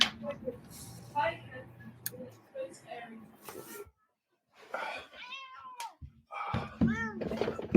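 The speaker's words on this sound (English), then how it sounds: "Yeah, he won't stop meowing." A cat meows repeatedly and insistently to be let in, several drawn-out cries near the end, while a person talks in between.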